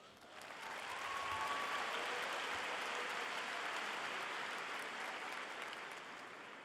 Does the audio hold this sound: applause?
yes